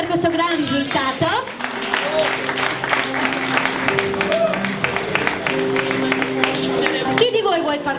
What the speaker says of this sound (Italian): E quindi doppio applauso anche per lui per questo gran risultato.